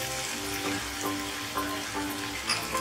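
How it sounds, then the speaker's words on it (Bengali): Taro stolons frying in hot oil while being stirred, a steady close sizzle with soft periodic scraping of the spoon through the pan, no voices. "কচুর লতি দেওয়ার পর এটা আমি খুব ভালো করে মিক্স করে দিলাম তেলের সঙ্গে।"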